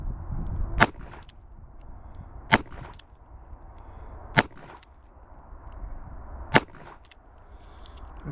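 Four slow, evenly spaced sharp gunshots from a Ruger LCRx revolver fitted with an enhanced grip, fired at a range, each a loud crack with short decay over steady background noise.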